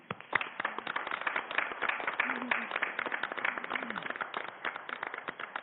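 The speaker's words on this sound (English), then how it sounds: "please help me in giving a huge round of applause to the Madison Street Festival 2022 grant recipients" A council chamber audience at a Madison, Alabama city meeting claps steadily for street festival grant recipients, a dense, even patter of many hands lasting several seconds, with a brief murmur of voices underneath.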